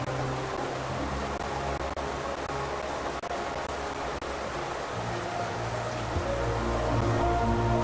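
Steady rainfall in the 2D game Hollow Knight, a dense continuous hiss of drops with a low hum of music underneath, constant and even throughout with no voices.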